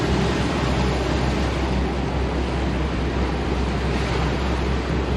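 A yacht cruising the Mississippi River, fighting eddies and passing a barge around a bend: a continuous loud rush of water and wind buffeting the microphone, with no distinct events.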